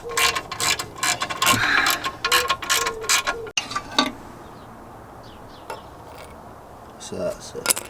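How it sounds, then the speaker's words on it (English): Ratchet undoing 13mm bolts on a car, quick rattling clicks in uneven bursts close by, growing sparse after the midpoint with a few scattered clinks toward the end. "Right, so we're just undoing it. There's 3 bolts here, 13mm"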